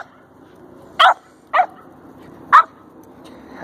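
Indoors, a dog gives three sharp, loud barks, spaced irregularly over a few seconds, against an otherwise quiet room.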